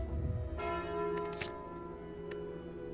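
The bell relic in Slay the Spire rings with a clear church-bell tone that sustains and slowly decays, joined by faint chimes, over a quiet steady game background.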